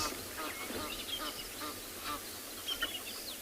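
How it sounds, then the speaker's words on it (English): Egyptian geese call at sunrise on a safari reserve, giving faint, scattered honks and cackles from a distance over a hissy outdoor background. "We heard another sound of other Egyptian geese"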